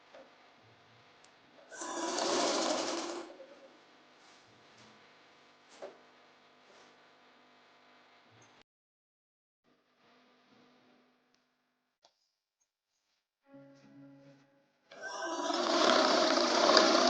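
A sewing machine stitches elastic into a palazzo waistband in short bursts, two loud whirring runs separated by quiet pauses and faint handling sounds, with no talk.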